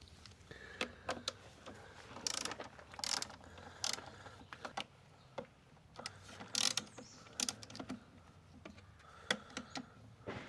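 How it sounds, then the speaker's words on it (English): Screws come out of a Honda EU2000i generator that only runs with the choke on, heard as intermittent close ratcheting clicks and small metallic tool sounds in short bursts separated by quiet pauses. "the three screws we'll have to take off is this one and these two here. So we'll take those off."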